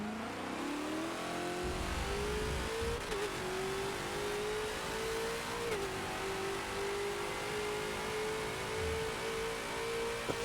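Ford GT40 race car engine in a Forza racing game at Spa, a steady mid-pitched drone that climbs gradually through the gears, with other cars faintly audible around it, heard alone with no talk.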